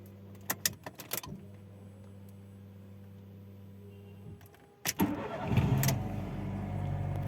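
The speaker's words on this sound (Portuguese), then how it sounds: "Deixa eu ligar o carro aqui." A car engine cranks and catches at close range, the start set off by a burst of key and door clatter, then settling into a steady rumbling idle.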